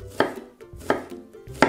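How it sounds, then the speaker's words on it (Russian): A kitchen knife slices a halved onion into half rings for an onion-filled katlama flatbread, giving three crisp, evenly spaced chops on a cutting board with no talking. "беру лук, разрезаю его на две части и теперь нарезаю его полукольцами"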